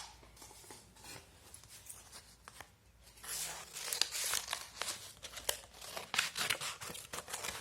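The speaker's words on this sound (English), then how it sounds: "Cut along that lines you had drawn properly." Paper is cut along drawn lines for a class 9 maths activity, with soft crinkling and crisp snips that grow busier and louder in the second half.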